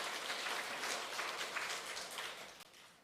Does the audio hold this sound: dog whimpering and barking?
no